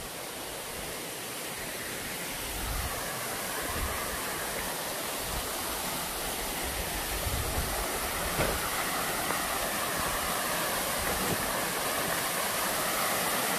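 Mupung Falls, a waterfall, pours in a steady broadband roar that stays constant and full throughout, with no voices.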